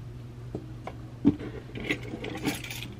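Keys pulled out of a handbag give a few light metallic clinks and jingles, scattered and fairly faint, with no talking.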